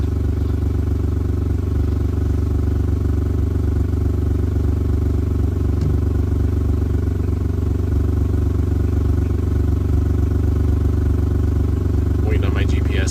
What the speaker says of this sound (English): Got a real nice tractor too.